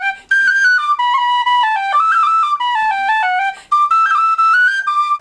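A boutique tin whistle plays a bright, continuous melody of clear high notes, stepping up and down in pitch with a short breath gap partway through, loud and close with no voices.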